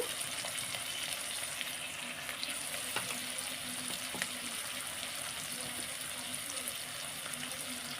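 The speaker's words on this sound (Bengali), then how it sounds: "এক মিনিট মতো ছোলাটা ভেজে নিয়ে এইবার দিয়ে দেব আদা বাটা" Chickpeas fry with ginger paste and ground spices in a pan, giving a soft, steady sizzle with light scraping stirs and a few small clicks, fairly quiet and continuous.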